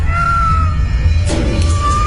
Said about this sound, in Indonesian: masih kulihat ada kucing yang terus mengeong menyeramkan.